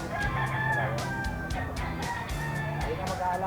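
A bullstag gamecock crows at a cockfighting grotto, giving several close crows amid clucking and ongoing crowd noise and chatter.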